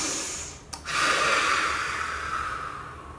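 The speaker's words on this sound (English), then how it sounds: "Let's take a deep breath." A single deep inhalation, a brief sharp intake followed by a long, steady airy breath, close and fairly soft with no talking.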